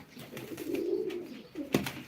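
A male Gökala pigeon coos at a live pigeon auction, a single rolling, throaty coo swelling near the middle and ending in a short sharp note, close and clear.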